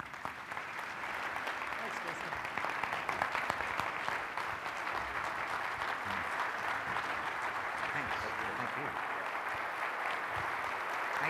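Sustained, even applause from a large audience welcoming Governor Rick Snyder at an inauguration event, a dense steady wash of clapping lasting over ten seconds without a break.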